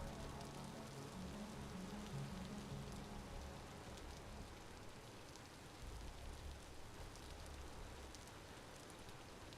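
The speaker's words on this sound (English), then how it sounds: "Got some ASMR rain going on." Rain falling in the survival video game Vintage Story, a dense, steady patter of drops on surfaces with a continuous soft hiss, even and moderately quiet throughout.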